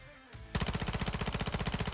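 A PDSW 528 (P90) submachine gun in a video game fires one long sustained spray, a fast even stream of loud, close shots that runs to the end after a brief quiet start.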